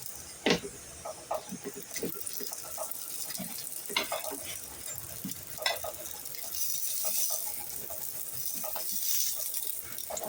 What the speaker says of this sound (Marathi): ते बनवलेले रोल जे आहेत ते आपण फ्राय करून घेऊया